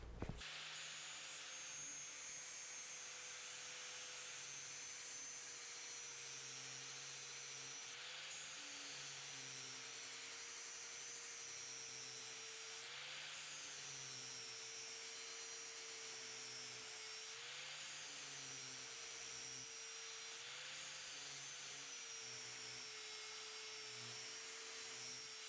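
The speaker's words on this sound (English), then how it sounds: "you're going to keep working that grinder back and forth across the face of the blade until you get it back down to a nice clean edge" A handheld grinder works steadily back and forth across the face of a lawn mower blade during sharpening, a continuous loud whine with periodic pitch dips as the disc loads against the steel, no voices.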